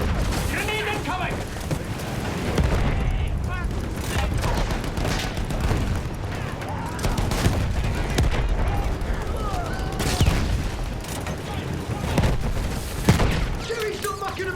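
Grenade explosions and bursts of gunfire crash through a First World War battle game, with steady rattling fire, repeated booms and shouting voices throughout the chaotic din.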